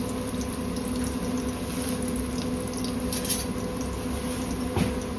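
Garlic frying in a pan for a Maharashtrian crab curry gives a dense, steady bubbling sizzle throughout, with a faint scrape of stirring near the end.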